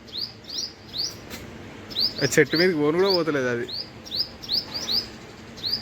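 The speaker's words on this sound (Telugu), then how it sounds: "వెరైటీ వెరైటీ సేమ్ అదే టైప్ ఆఫ్ బర్డ్స్ వస్తున్నాయి మొత్తం" Small birds chirp in quick, high, repeated calls around a squirrel on a tree, moderately near and continuing throughout, while a person speaks briefly partway through.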